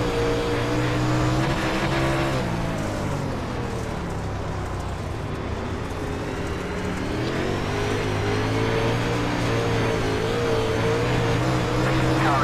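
Dirt modified race cars from an iRacing DIRTcar UMP Modifieds race at Williams Grove Speedway roar steadily, engines revving and surging as the pack runs close by, with a loud continuous drone throughout.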